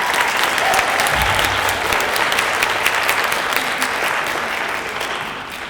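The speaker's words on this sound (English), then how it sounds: "Give her a big round of applause." An audience applauds an accompanist at a high school holiday concert, sustained dense clapping from a large crowd filling the room, steady and loud before easing slightly toward the end.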